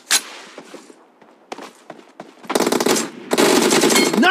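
Gunfire in the mobile battle royale game BGMI: a few scattered single shots and footstep-like thumps, then loud sustained bursts of automatic fire fill the second half, with no talking.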